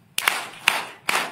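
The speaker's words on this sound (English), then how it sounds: "we are going to give 3 hearty claps" Three sharp, hearty group claps from an audience at a national skills championship event, evenly spaced and in unison, close and crisp with brief gaps between them.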